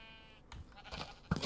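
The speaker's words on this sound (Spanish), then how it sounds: "Es una oveja" A sheep bleats in a video game, a short wavering cry followed by a second sharper bleat, heard alone without talk.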